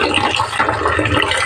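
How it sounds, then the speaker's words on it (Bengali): Freshwater snails (gugli) are scrubbed and squeezed by hand in a pot of water, making continuous loud, close splashing and sloshing. "কচলিয়ে ধুয়ে নেব। আমি যে এরকম করে ধুয়ে নেব।"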